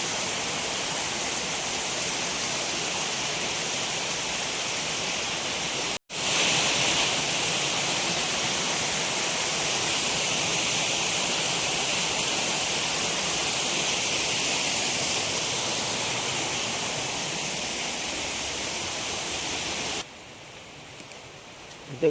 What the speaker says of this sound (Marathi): खाली धबधबा आहे